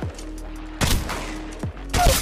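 Two loud, close weapon bursts ring out in Apex Legends Mobile over a low steady hum, separated by a short gap.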